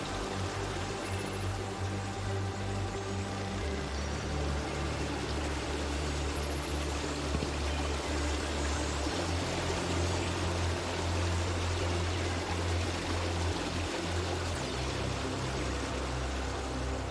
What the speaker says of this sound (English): This waterfall cave now.